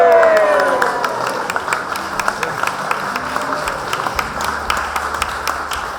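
Audience applause at a rural training awards night, a dense patter of many hands clapping, loudest at the start and easing slightly but continuing steadily throughout.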